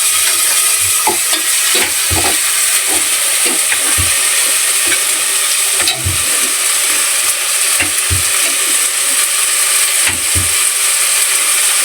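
Kantola (spiny gourd) stirred into frying onions in a pan, with continuous loud sizzling and repeated scraping, clattering stirs close up and no talking.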